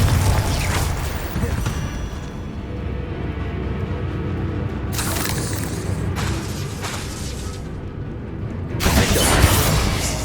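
Confringo blasting spells exploding in Hogwarts Legacy, several loud booming bursts rising out of steady rumbling game sound, with a heavier blast near the end.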